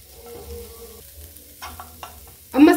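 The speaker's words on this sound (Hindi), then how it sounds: "अब मसाला को पूरे पैन में थोड़ा थोड़ा फैला लेते हैं।" Masala is stirred and spread across a frying pan with a spatula, making soft scraping strokes over a low sizzle, followed by a sharp louder sizzle burst at the end.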